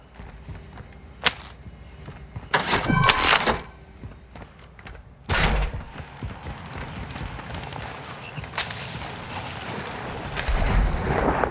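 Gunfire in a military shooter video game: several loud, close bursts of shots and impacts arrive in irregular clusters over a steady background rumble, with no talking.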